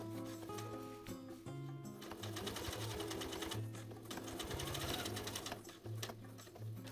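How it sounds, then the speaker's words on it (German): A sewing machine topstitches the edge of jeans with contrast thread at 2 and 8 mm from the edge, running in fast, rhythmic bursts with short pauses, loud and close. "Die Kante wird mit kontrastfarbigem Garn mit 2 und 8 mm Kantenabstand gesteppt."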